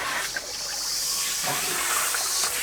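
Warm water blasts from a tap onto a rusty wok during cleaning, giving a steady broadband hiss and splash that runs near and even for the whole stretch.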